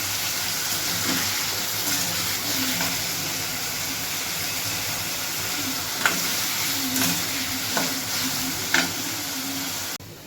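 Potatoes frying in a pan until browned, a steady close sizzle running throughout with a few brief stirring clicks and scrapes near the end.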